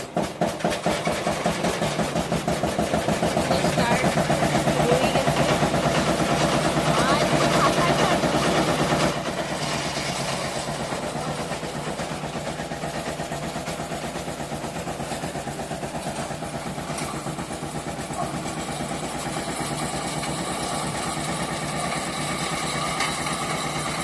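A well-boring machine's engine runs steadily at a home boring site, a loud continuous mechanical drone that drops to a somewhat lower, steady level partway through, with some background voices.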